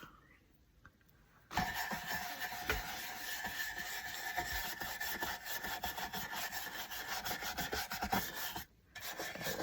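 A wax brush loaded with dark wax scrubs over wooden scrap pieces in quick, rasping strokes, close up, starting after a short quiet pause and breaking briefly near the end.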